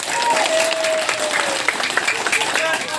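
Audience clapping at a village meeting in Kemantan, a steady burst of applause from a seated crowd, fairly loud and continuous for the whole stretch, with scattered voices mixed in.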